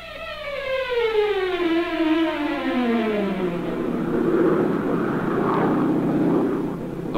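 A Coast Guard helicopter on a sea rescue search along a beach, its engine drone steady and loud throughout, with a falling harmonic whine like a Doppler pass as it sweeps by and continues overhead.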